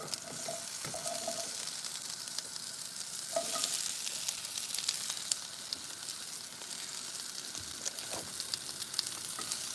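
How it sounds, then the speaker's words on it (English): Asparagus fries in a pan with a steady, close sizzle while a utensil stirs it, scraping and clacking at intervals throughout. "Stir this around. Stir the asparagus."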